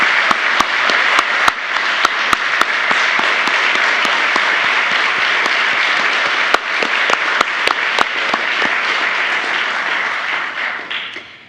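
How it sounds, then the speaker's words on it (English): Sustained audience applause at a national youth forum for young presenters, a dense, loud roar of many hands clapping with a few sharp individual claps standing out, tapering off at the end. "Let's give our presenters another big round of applause."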